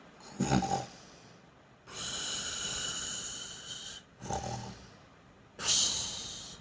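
A voice imitates loud snoring: three rasping snore sounds with longer drawn-out breaths between, close and fairly loud, no other talk.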